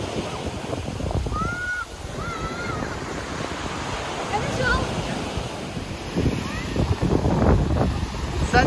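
Sea waves wash and break along a beach at a resort in Antalya, Turkey, a steady surf hiss under gusty wind buffeting the microphone, with faint voices nearby.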